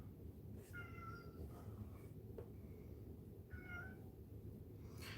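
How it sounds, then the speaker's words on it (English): A house cat meows twice indoors, a few seconds apart, faint and somewhat distant under a steady broadband background hiss, with no talking. "just ignore my cat."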